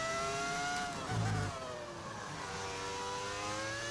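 A Formula 1 car in the F1 25 game with a V10 engine sound mod, revving high and shifting through gears alone, with a brief dip and tire-like noise before climbing again.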